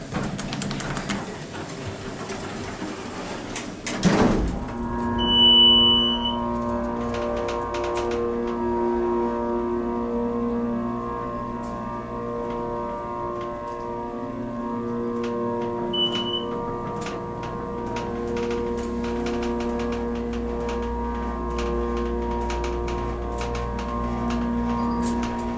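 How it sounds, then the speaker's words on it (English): A Westinghouse hydraulic elevator's electric motor hums steadily with layered tonal drones throughout, with a clunk near the start and occasional faint beeps. "That motor sounds just like a microwave, doesn't it?"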